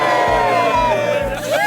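A crowd of wedding guests in the Cotswolds, UK, cheers and whoops together, a loud, sustained roar of overlapping voices close by.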